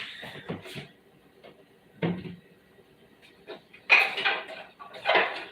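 Plates and dishes clattering as one is taken from a kitchen cupboard, a few separate knocks and clinks followed by two louder bursts of rattling crockery near the end.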